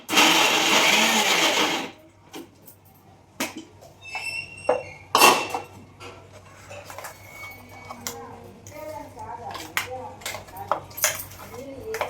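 A kitchen mixer grinder runs loudly for about two seconds, blending wood apple chutney with jaggery, then stops, followed by quiet clinks and taps of utensils and jars.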